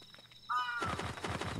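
Crows cawing in the horror video game Yomawari: Lost in the Dark: a single drawn-out caw rises clearly, then a rougher cluster of rapid calls follows over a steady low background hum.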